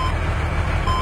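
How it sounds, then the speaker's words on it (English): A truck's reversing alarm beeps in a steady repeating tone over a low engine rumble, fairly loud and continuous across the moment. "Oh god, here comes the truck again."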